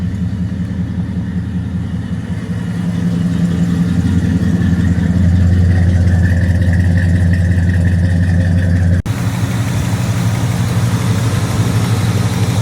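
A 1986 Chevrolet Monte Carlo SS with a 305 V8 and 4-speed automatic turns over and settles into a steady, rumbling idle close by. The low throb stays even and continuous, with no talking.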